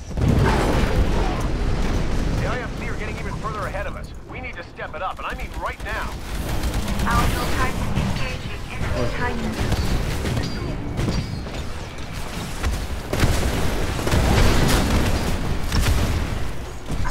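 Heavy weapons fire from a Titan in the Titanfall video game on the Lagoon map during an Attrition match, dense booming bursts and explosions running throughout with a voice talking over the combat.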